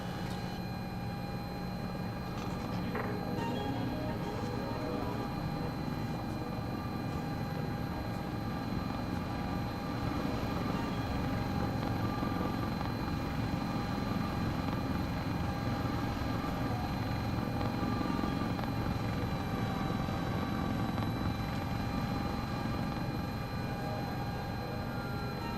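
Sikorsky S-76 helicopter in Microsoft Flight Simulator 2024, approaching a runway in fog; a steady, loud rotor and turbine drone with a constant high whine persists unbroken from start to end.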